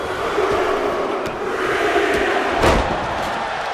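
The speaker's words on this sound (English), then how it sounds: "Taking a moment to get pumped off of this crowd's incredible energy." Steady roar of an arena crowd in the WWE 2K25 wrestling video game during a Bloodline WarGames match, a continuous broad wash of cheering with a few sharper impacts punctuating it, no commentary heard.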